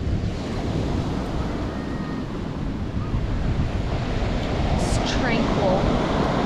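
Ocean waves at Rialto Beach in Olympic National Park break continuously in a dense, steady wash of surf, with wind buffeting the microphone throughout.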